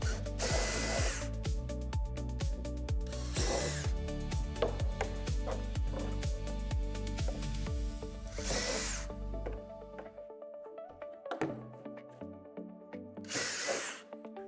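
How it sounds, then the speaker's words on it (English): A power drill with a 3/8-inch bit whirs in repeated bursts, grinding into a playset entry panel with high-pitched screeches at intervals, then slows and stops between a few final short runs. "drill out the divots in each corner with a 3/8 drill bit."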